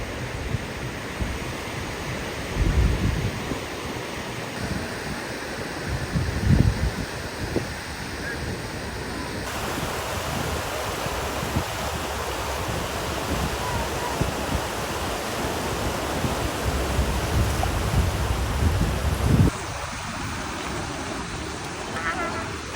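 Sea waves roll in at high tide on a Boracay beach, a broad, steady wash of surf with slow swells and some nearby voices underneath.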